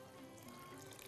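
Water runs steadily into a cooking pot in a home kitchen, about a litre to a litre and a half added to a simmering stew, a continuous close splashing stream with no talk.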